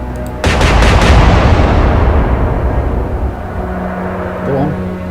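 Heavy naval guns firing from warships in the Atlantic Fleet naval combat game, one loud sudden boom followed by a long rumbling roar that slowly fades, with a faint tonal sound near the end.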